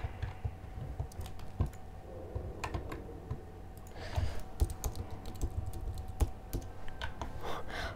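Rapid typing on a computer keyboard, close and continuous, with irregular key clicks and occasional heavier strokes like the space bar, no voices.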